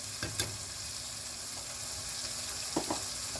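Chicken and potato pieces fry with masala for khichdi in a steady, bright, hissing sizzle, with a few clattering stirs and scrapes near the start and toward the end.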